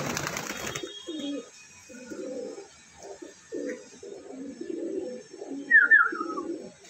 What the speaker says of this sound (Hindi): ये है वो सारे कबूतर सेल के